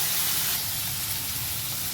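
Food frying in a pan for pasta, a steady loud sizzling hiss that holds unbroken throughout with no voices.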